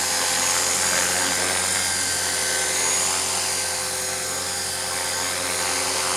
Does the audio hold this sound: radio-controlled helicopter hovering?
yes